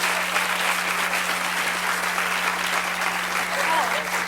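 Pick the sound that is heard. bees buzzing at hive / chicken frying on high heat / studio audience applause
studio audience applause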